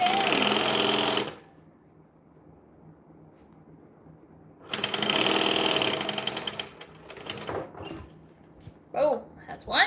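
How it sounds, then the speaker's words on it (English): Sewing machine stitching a bag during a live sewing session, with a loud, fast mechanical whir in two separate bursts and a pause between them, followed by brief handling and a voice speaking at the end. "And then I'm going to stitch it down."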